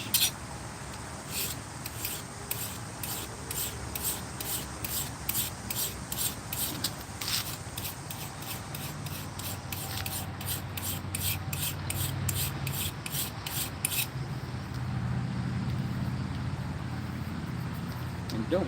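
A hand file rasping a small bevel onto a homemade knife blade, steady rhythmic back-and-forth strokes repeating close up for the whole stretch, fairly loud and even.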